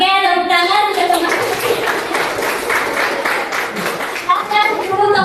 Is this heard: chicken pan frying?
no